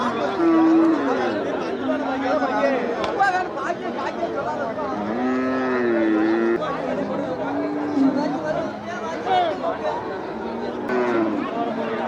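Cattle low at a busy livestock market in Melapalayam, with several drawn-out moos rising over steady crowd chatter and nearby voices.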